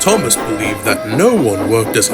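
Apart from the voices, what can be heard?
No distinct noise like a dog, phone or traffic.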